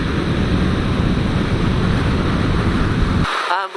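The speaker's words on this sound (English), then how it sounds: "Ooh, it's windy." Heavy wind roar buffets the rider of a 2016 Suzuki GSX-R 750 on the road, a loud, steady rushing noise that fills the whole stretch and cuts out abruptly near the end.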